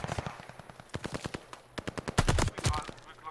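Rapid gunfire bursts crackle around a hard point in a Call of Duty match, sharp repeated shots in uneven volleys with heavier blasts near the end, mixed with other game sounds.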